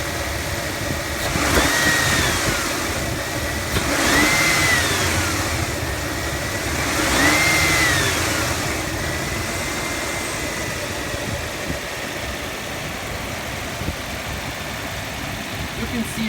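The supercharged engine of a 1987 Toyota Crown Royal Saloon runs steadily, with a few gentle rises in revs and a faint supercharger whine at each rise, a constant close drone throughout.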